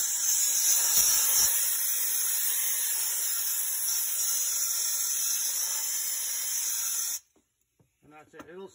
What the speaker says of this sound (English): the air compressor working. I brought the hose in.